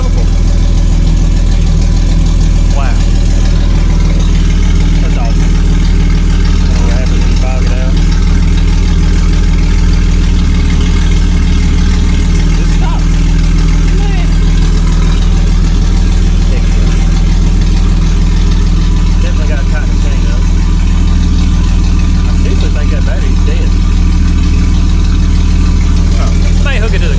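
A full-scale 1:1 remote control Jeep build runs its engine at a steady, loud idle with a deep low rumble throughout, while people talk over it.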